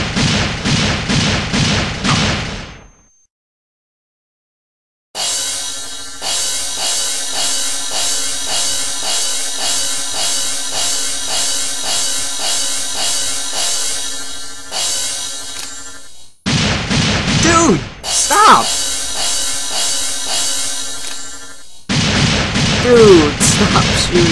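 Rapid gunfire in a video game, with long bursts of evenly spaced shots and thuds, a short stretch of silence, then harsh louder blasts toward the end, with voices talking now and then.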